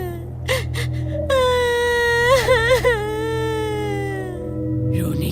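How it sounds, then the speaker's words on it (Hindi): A woman's drawn-out, wavering wail and sobbing moan used as a crying effect in a Hindi horror audio story set in a large haunted mansion, rising and falling over a low droning ambience, with short gasps before it. "रोने की आवाज।"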